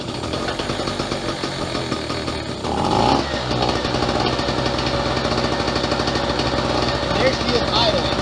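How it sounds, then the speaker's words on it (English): A Pulsar PG1202S portable generator is pull-started: a brief rough cranking rattle, then the engine catches and settles into a loud, steady, close drone that fills the rest of the clip. "give it a couple pulls to get the fuel into the carb"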